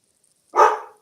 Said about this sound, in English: can you guys please make the dog be quiet